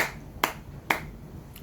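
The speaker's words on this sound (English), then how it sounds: "clap your hands." A few crisp, isolated hand claps from one person, two distinct and a third fainter, spaced about half a second apart during an instruction game, with no voices.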